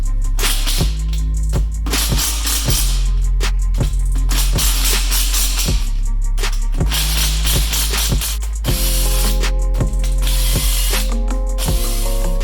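A ratchet clicks loudly and rhythmically close up as camshafts come off a Ford SVT Focus engine, with repeated bursts of quick clicking and mechanical clatter between strokes.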